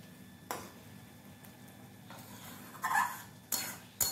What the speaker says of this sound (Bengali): বেশ ভালোভাবে একটু নাড়াচাড়া করে নিচ্ছি